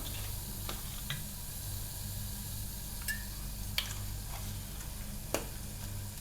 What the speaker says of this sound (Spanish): Vamos a echar un poquito de aceite de oliva.